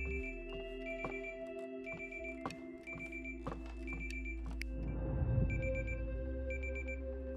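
A wristwatch alarm beeping in a room, repeated short electronic bip tones in regular bursts over a steady low hum, fairly faint and with no speech.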